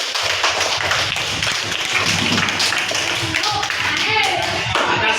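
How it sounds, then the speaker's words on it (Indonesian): A class of students claps hands together in a classroom, a busy mix of claps and taps with voices chattering and calling out over it throughout. "Tepuk tangan semuanya"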